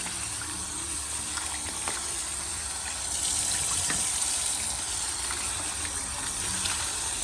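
Tap water runs steadily while tripe is rinsed for mumbar in a kitchen: a continuous, close gushing stream with no pauses that stays fairly even throughout.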